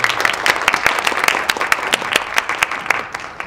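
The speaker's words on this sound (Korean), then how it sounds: "뜨거운 박수로 청해 주시기 바랍니다" Audience applause in a hall welcomes candidate Kim Dong-yeon at a meeting with Seoul-area university student journalists; dense, crisp clapping runs steadily for a few seconds and thins slightly near the end.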